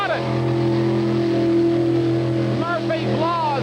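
Murphy's Law monster truck at a 1989 mud bogging jamboree in Bloomsburg, PA, its engine droning loud and steady under excited commentary, with a pitch rise as it revs near the end.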